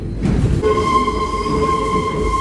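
A subway train rumbles through the metro with a loud, steady roar, joined after a moment by a sustained high whine that hums on over the running noise, with no voices.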